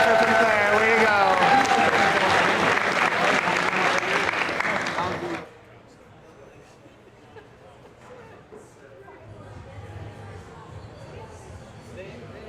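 Loud, dense audience applause at a live Rabble Rouser event, sustained for about five seconds before cutting off abruptly, leaving faint crowd murmur and room noise.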